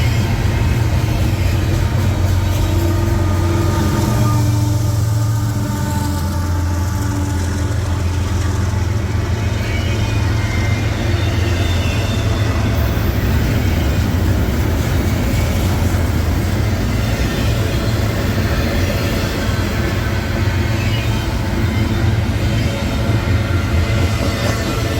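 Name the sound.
CSX ES44AH diesel locomotive train passing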